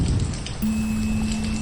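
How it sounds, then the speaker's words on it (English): Steady rainfall in a cinematic tabletop battle scene, a dense close hiss of drops running throughout with a faint low tone entering partway. "And on it rains."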